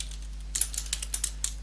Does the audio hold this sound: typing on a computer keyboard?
yes